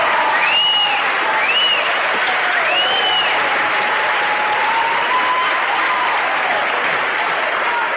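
Loud, rowdy audience at a Charles Bukowski poetry reading breaks into sustained applause and cheering, with whoops and whistles rising over a dense, steady wall of clapping that fills the whole stretch.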